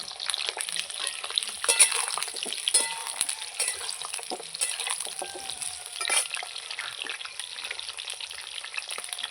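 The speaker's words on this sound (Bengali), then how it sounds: "তেল গরম হয়ে গেছে আলুগুলো দিয়ে দেবো মাংসের আলুগুলো আমি লাল লাল করে ভেজে নেব" Potatoes meant for a goat mutton curry fry in hot oil, producing a continuous bright crackle and hiss with scattered sharper pops throughout, steady and close, without any speech.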